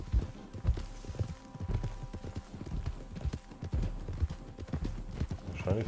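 Horse hooves clip-clop in a steady trotting rhythm during a ride in Red Dead Redemption 2, fairly close, with faint game ambience beneath and no clear talking.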